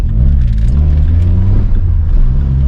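A Vauxhall Corsa with a straight pipe exhaust gives a loud, close engine drone with deep rumbling tones that rise and fall slightly as revs change.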